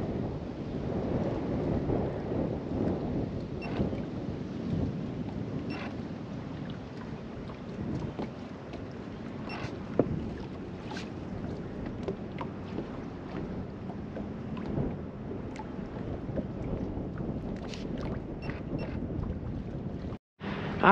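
Strong, gusty wind buffets outdoors, a steady low roaring rush with occasional louder gusts and faint knocks, continuous throughout with no talking.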